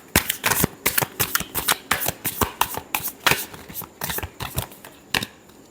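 Tarot cards being shuffled by hand during a love reading, a run of quick, crisp riffling bursts and flicks, close and fairly loud, with no talking.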